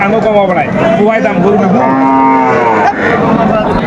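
At the Aftabganj cattle market, a Sahiwal cow and calf give a loud, close moo lasting about a second, surrounded by bursts of people talking.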